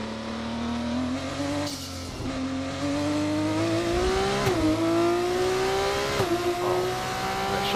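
Formula 2 race cars in the F1 24 video game at Abu Dhabi whine at high revs, the engine pitch climbing steadily and dropping briefly with each gear change, loud and continuous.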